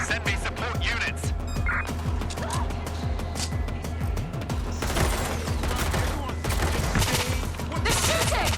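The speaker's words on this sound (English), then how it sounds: "They're shooting." Gunfire in the video game Watch Dogs Legion: dense, continuous volleys of shots crackling throughout, with bursts of automatic fire and impacts, loud and close, layered with game voices and background action.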